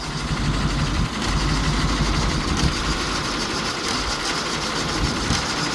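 A rough-running old engine on a project tipper truck idles loudly and close by, its uneven, lumpy chugging continuous throughout with no talk over it.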